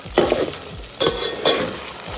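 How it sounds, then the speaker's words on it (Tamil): Food sizzles in a hot pan while a spatula scrapes and stirs tomatoes for tomato rice, with a few distinct scraping strokes over the steady frying hiss. "வதக்குங்க. இது நல்லா வதங்கட்டும்."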